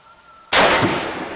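A single loud, sharp rifle shot from a favorite deer rifle firing 160-grain loads rings out close by. It follows a near-silent lead-in and then leaves a long, broad echoing tail.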